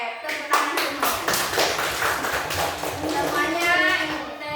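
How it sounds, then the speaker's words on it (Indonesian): A classroom of children clapping hands together in a lesson, a dense rapid patter of many claps sustained throughout, fairly loud and close, with voices mixed in under the applause. "Oke, tepuk tangan semuanya."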